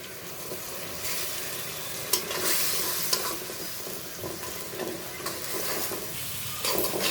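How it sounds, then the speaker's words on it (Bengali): Dried puti fish frying in a pan gives a steady, close sizzle with scraping stirs and a few sharp clinks of the utensil against the metal. "দেখো দিয়ে দিব পুটির শুটকি দেখো অনেকগুলো মাছই দিলাম"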